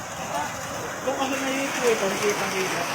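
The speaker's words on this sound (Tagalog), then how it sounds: "Tingnan niyo po kung gaano kalakas ang ulan" Steady, dense rain hiss fills the scene, with faint speech-like tones drifting underneath the continuous downpour.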